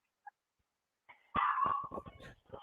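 A dog lets out one faint yip, then after a pause gives a close burst of barks and whimpering yelps. The sounds come in a choppy run that grows softer toward the end.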